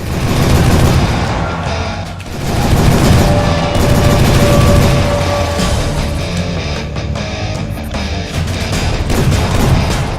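A .45 caliber gun firing in the video game Jurassic The Hunted: loud, dense booming gunfire in a continuous barrage, with no break across the stretch.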